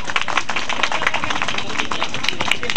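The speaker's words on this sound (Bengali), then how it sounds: "হাততালি, জোরে হাততালি" An audience claps during a fire-eating demonstration, dense, steady applause filling the whole moment at high volume.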